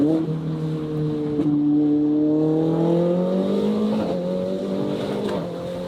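A Ferrari Mondial t engine drops through downshifts, its pitch falling and then climbing again in smooth steps. It is loud and close, with a sustained tone that runs through the whole moment.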